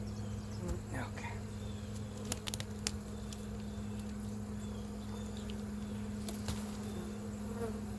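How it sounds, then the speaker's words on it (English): A low, steady buzz of many honey bees in a hive after a shook swarm fills the scene, close and continuous, with occasional small taps and clicks. "there is a ton of bees up here"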